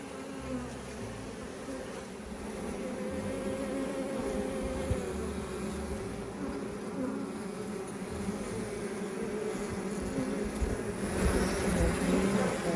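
A dense, steady buzz of many honeybees swarming close by, continuous throughout and swelling slightly louder toward the end.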